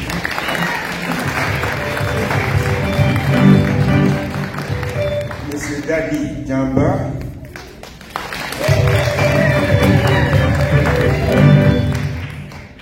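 Crowd applause at a Mass for peace for the DR Congo, Central African Republic and Congo-Brazzaville in Washington DC greets a delegation, loud sustained clapping that dips briefly as a man calls out names, then swells again.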